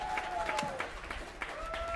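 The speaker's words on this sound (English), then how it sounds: "Let's have another round of applause for these finalists, y'all." Scattered, faint applause from the audience at the 2021 Vic Chesnutt Songwriter of the Year Awards as the finalists are honoured, with a thin sustained tone running beneath the claps.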